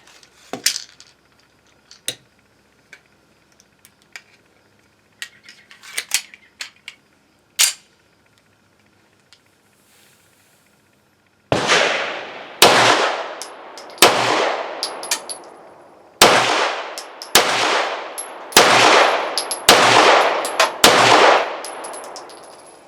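A G-Force Chronicle 9mm pistol is test-fired with a 1911 magazine, starting with scattered metallic clicks and handling clatter, then a run of about nine loud, close, sharp shots at uneven intervals.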